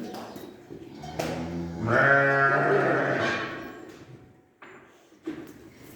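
A sheep lets out one long, wavering bleat, fairly close and clear, followed by quieter farmyard shuffling.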